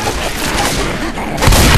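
A grenade blows up in the co-op zombie shooter Left 4 Dead 2, a dense booming blast that rumbles throughout and swells louder near the end amid chaotic game noise.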